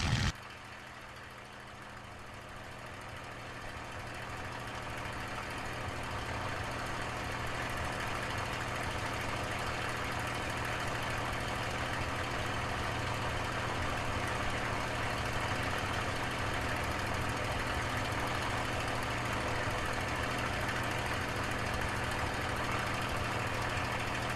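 P-51 Mustang aircraft engine heard from inside the cockpit, a dense continuous drone that rises slightly in loudness as power comes up and then holds steady.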